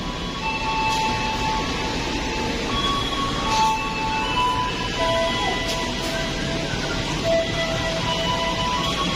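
A train rumbles and hisses steadily as it rolls slowly into Kutoarjo station in Indonesia, with faint squealing brake tones and a constant low hum throughout.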